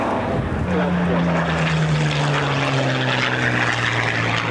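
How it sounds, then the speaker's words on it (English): Propeller engine of the Battle of Britain Memorial Flight Mark IIA, built at Bromwich in 1940, droning loud and steady at an air show with a slowly falling pitch, under a public-address voice. "P-50 is the Mark IIA, the oldest aircraft in the Battle of Britain Memorial flight, having been built at Bromwich in 1940"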